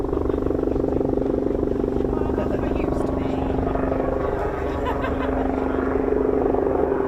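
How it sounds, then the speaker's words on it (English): A purple Royal helicopter drones steadily overhead at RAF Marham, its low rotor thrum and engine whine continuous and fairly loud throughout. "helicopter by the look of it, in that amazing purple colour"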